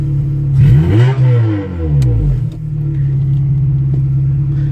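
A 2006 Toyota Corolla XRS with its exhaust cutout open revs hard, the engine note sweeping up and back down over about two seconds before settling into a loud, steady idle rumble close by.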